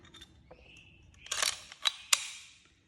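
Staples dropped and snapped into the magazine of a Harbor Freight Bauer cordless stapler: a few soft rattles, then a cluster of sharp plastic-and-metal clicks and a final crisp snap, close and fairly quiet, with no talk.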